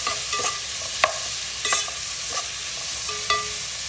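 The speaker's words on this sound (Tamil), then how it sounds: "அப்புறமா வெட்டின வெங்காயம் எல்லாத்தையும் போட்டுடுங்க. போட்டு வதக்கி வரும்." Chopped onions sautéing in a pan with cinnamon and clove, a soft steady sizzle broken by a few sharp scrapes and taps of a spoon stirring, close and alone without talk.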